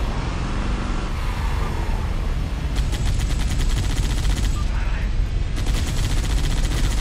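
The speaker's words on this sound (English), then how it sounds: "He's firing! He's firing!" Dense bursts of rapid gunfire from Halo: Combat Evolved Anniversary rattle over a constant loud roar of battle noise, with repeated fast volleys in the second half.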